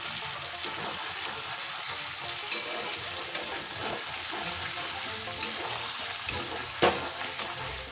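Chicken curry with fried potatoes being stirred in a pan, giving a steady close sizzle with scraping and clatter from the utensil throughout, and a few sharper knocks.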